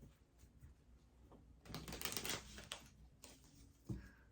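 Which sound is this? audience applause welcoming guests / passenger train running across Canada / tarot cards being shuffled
tarot cards being shuffled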